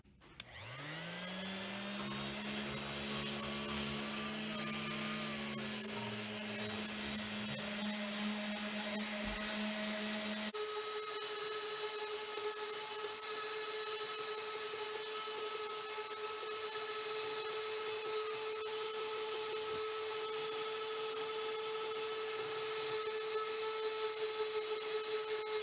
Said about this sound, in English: So I'm going to go ahead and start sanding on this edge.